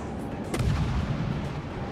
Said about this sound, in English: So I will return fire on you.